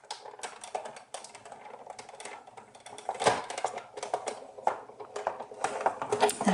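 An embossing machine cranks cardstock through on a cutting plate, giving steady rattling, clicking mechanical noise that grows louder in the second half, close up with no voices.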